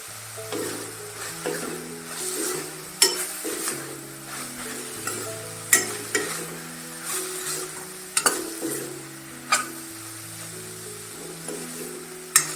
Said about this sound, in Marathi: चांगली परतून घ्यायची आपल्याला